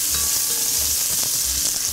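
Carrots sweat in a hot pan with seasoning, a loud, continuous close-up sizzle broken by soft stirring scrapes, with nobody talking.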